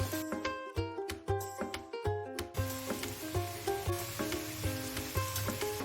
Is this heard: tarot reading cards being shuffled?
no